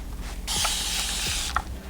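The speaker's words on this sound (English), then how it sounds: "take a bottle of water and spray it" A spray bottle of water hisses out one long, steady burst lasting about a second onto a lace wig, with faint clicks and handling noise around it.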